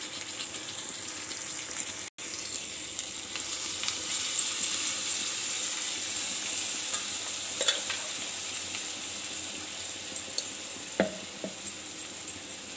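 Gravy of cashew, onion and tomato paste with Kashmiri chilli being stirred in a pan for dhaba-style butter chicken, giving a steady soft sizzle with a few scraping clinks of the spoon, close by and alone.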